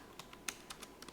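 Computer keyboard typing while code is deleted: about seven light, separate keystrokes over roughly a second, close and quiet, one tap slightly louder, with no talking.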